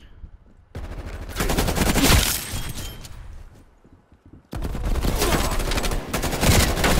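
Krig 6 rifle firing in the video game Call of Duty: Cold War, two long sustained bursts of rapid automatic gunfire separated by a brief gap, loud and close.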